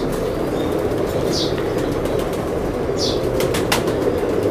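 Steady rushing background with a couple of brief soft flutters, like pigeons flapping their wings nearby, plus a few faint clicks.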